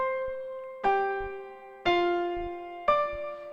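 Piano octaves in the right hand from a piece, both notes of each octave struck together: three clean, sustained struck chords at an even pace after a held opening tone, played alone with no talking.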